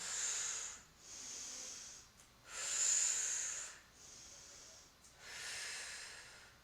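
Forceful exhaled breaths during a core workout, four long hissing breaths in a steady rhythm, close and fairly quiet, alone without talk.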